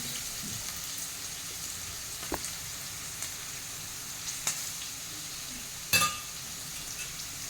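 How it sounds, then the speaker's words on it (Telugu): Potatoes fry in oil in a pan for potato fried rice, a quiet, even sizzle with a few scattered clicks and a louder stirring clatter near the end. "ఇంకొక 5 నిమిషాలు పడుతుంది వేగనికి"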